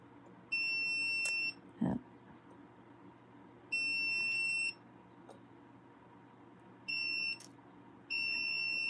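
A gem tester gives repeated electronic beeps as its probe is pressed to the stone of a piece of vintage jewelry. Four steady high tones come in separate bursts over a faint background, with a short knock between the first two.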